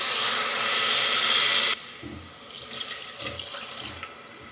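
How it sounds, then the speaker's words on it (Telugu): Water gushes loudly for almost two seconds, then stops, leaving quieter clinks and light splashing in a pot. "రెండు గ్లాసులు నీళ్లు పోస్తున్నాను"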